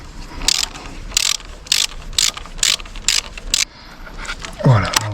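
A ratchet wrench clicks in quick bursts while tightening bolts on the high-pressure fuel pump of an Audi A1 8X 1.2 TFSI, about eight close, evenly spaced ratcheting strokes, followed by a brief low mechanical scrape.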